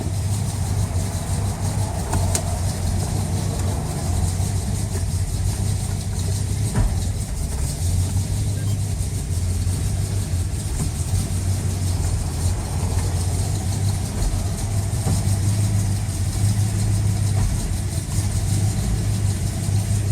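A Chrysler Valiant engine idles steadily while its TorqueFlite automatic transmission is moved through the gears, a continuous mid-low hum with a faint periodic throb and no voices.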